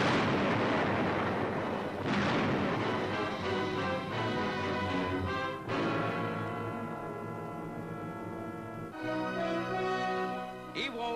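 High-explosive blasts pound Japanese cave fortresses on Iwo Jima in wartime newsreel footage, a series of heavy booming detonations and rumbling bursts that roll into one another, loud and close throughout.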